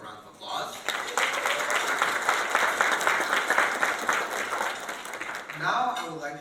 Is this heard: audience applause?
yes